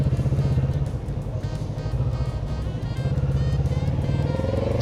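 A Kawasaki Z650RS motorcycle engine pulls steadily under way, a loud, close, throbbing low rumble with rapid firing pulses that build slightly in pitch toward the end as it accelerates.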